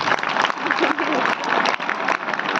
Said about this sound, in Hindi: आप चाहें तालियां बजा सकते हैं अपने ऊपर।